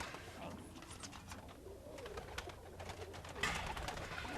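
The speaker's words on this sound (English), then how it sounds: "just showing us a couple of different types of pigeons" Several different types of pigeons coo inside a walk-in cage, soft and fairly close, among fluttering and rustling with quiet background noise.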